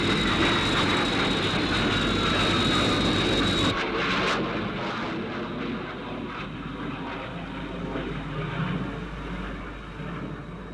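Sky 1 interceptor aircraft from the TV series UFO, airborne, as a loud, steady jet roar that fills the whole stretch, with a slight shift in tone partway through.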